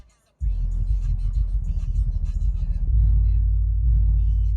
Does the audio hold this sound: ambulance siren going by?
no